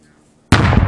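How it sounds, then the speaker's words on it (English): A controlled detonation of unexploded ordnance by military bomb-disposal troops bursts suddenly after near silence, a loud, sharp, broad boom that keeps rumbling to the end of the short clip. "That's a controlled detonation by EOD."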